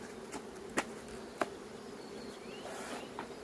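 A carpet of honeybees in a three-frame starter box used for carrying queen grafts gives off a steady soft hum, broken by a few sharp clicks and bumps nearby.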